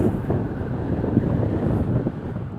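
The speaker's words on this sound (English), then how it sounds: "That wind is killer today" Strong wind buffeting a microphone outdoors, a continuous low rumbling roar with uneven gusting pulses, close and loud with no voices.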